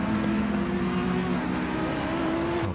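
A GT3 race car engine, a Ferrari, in the Assetto Corsa Competizione racing game at Suzuka, droning loudly and steadily at high revs as the car takes a corner, with a faint change in pitch near the end.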